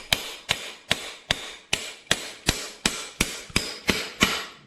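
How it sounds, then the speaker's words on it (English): Steady, evenly spaced hammer strikes on a metal bolt during a WR250F rebuild, about two or three per second, sharp and close, with no talking. "There you go. Use that hammer."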